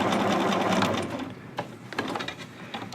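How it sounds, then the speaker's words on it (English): A sewing machine runs a long basting stitch down seam allowances, with a steady close whir for about a second, then lighter, stop-start bursts of stitching. "go back to straight stitch, lengthen your stitch length to basting, and you are simply going to baste down all 4 seam allowances"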